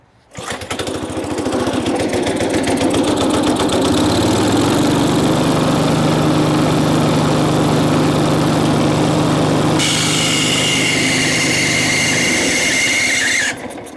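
An old Lazy Boy lawn mower engine fires up and runs at a loud, steady high-pitched drone close by, its tone shifting partway through before it cuts off at the end.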